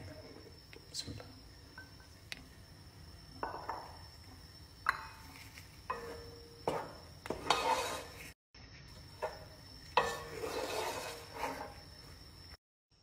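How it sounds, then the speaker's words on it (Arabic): Flour stirred continuously in a hot pot to toast it, with repeated scraping and tapping of a utensil against the metal in irregular bursts, close and moderately faint, over a soft background hiss. "نحرك الطحين باستمرار لحد ما يتحمر معي"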